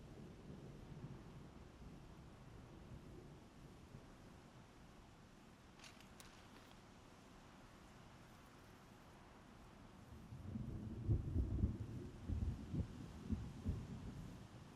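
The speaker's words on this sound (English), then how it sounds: "Hear the thunder of a volcano in the background." Deep volcanic rumble from the Horizon Zero Dawn game world, a low steady roar building to a louder, heavier surge near the end, with no talking.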